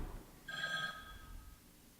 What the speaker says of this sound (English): The phone. I'll answer it.